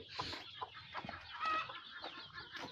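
Several sick native chickens cluck softly and intermittently nearby in a brooding shed, short low calls repeating over a quiet background.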